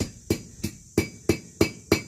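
Hammer blows ring out on a steel bar being forged into a hook over a charcoal fire: seven loud, close, metallic strikes in a steady rhythm about a third of a second apart.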